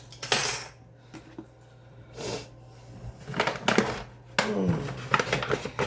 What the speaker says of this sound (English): I got to grab my measuring cups. And my measuring spoons again.